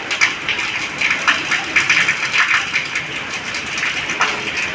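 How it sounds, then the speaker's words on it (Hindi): Heavy, continuous rain falls steadily overnight into the morning, a loud, dense hiss with fluctuating gusts of intensity and no voices. "रात से लगातार बारिश हो रही है, अभी भी बारिश हो रही है।"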